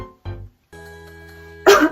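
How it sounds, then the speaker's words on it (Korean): A voice coughs twice in short bursts, each cough separate and distinct, followed by a brief sustained tone and a final rougher cough or throat clearing, all close and clear with no talk. "기침이 나고"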